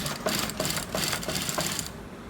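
A sewing machine stitching a man's shirt collar runs in quick bursts of rapid mechanical clatter with a regular needle pulse, close and steady, then stops and leaves quiet room tone.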